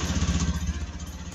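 A motorcycle fitted with a new lithium battery fires up and runs with a rapid, even, close engine chug that settles into idle.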